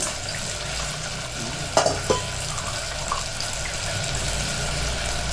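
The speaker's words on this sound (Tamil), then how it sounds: "வடிகட்டிக்கிறேன்" Tamarind water is strained into a pot of brinjal and okra tamarind curry, giving a steady liquid pouring and trickling wash with a soft sizzling bed. A few sharp clinks come in the middle, and no one speaks.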